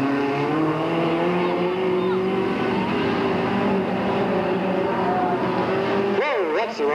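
Several race cars idle and roll slowly off a corner at Delta Speedway before a start, a loud, steady, close engine drone with layered pitches, under continuous commentary.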